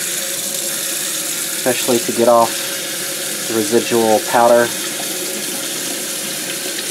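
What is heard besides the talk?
cold tap water rinsing out ice-dyed tie-dye fabric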